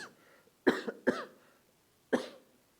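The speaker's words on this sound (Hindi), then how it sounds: "रुकिए, खांसी थोड़ा उपट गया।" A man coughs three times, two quick close coughs followed after a pause by a third, in a quiet room.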